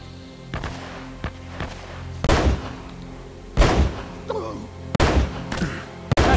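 Heavy-recoil gunfire in Uncharted: Drake's Fortune, with several loud, sharp shots spaced irregularly over a steady game backdrop, a few sharper cracks near the end.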